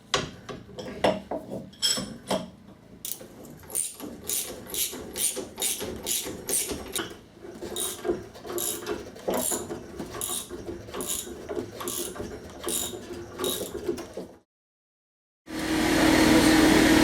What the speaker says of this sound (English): This is a spring compressor. Use it to compress the spring